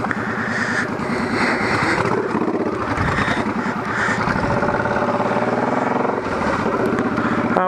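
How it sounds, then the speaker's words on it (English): A heavy old motorcycle ridden off-road like a dirt bike, its engine thrumming loudly and continuously with shifting revs, close up with wind noise over the rider. "we got to turn this old bike here into a bit of a dirt bike for a second"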